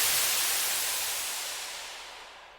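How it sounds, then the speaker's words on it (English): A white noise impact effect for a lo-fi beat gives one broad, bright burst of hiss that hits full at once and slowly decays over a few seconds. It plays alone. "and also this white noise,"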